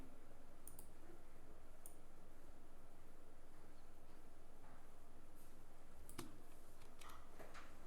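A computer mouse clicks a few times during right-click work in video editing software, each click faint and sparse against a quiet room hum.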